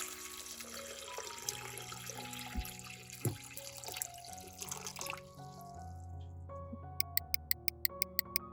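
Water pours from a tap onto peeled garlic cloves being soaked for pickling, a steady splashing stream over soft tonal music that stops midway, followed by a series of light, regular ticks.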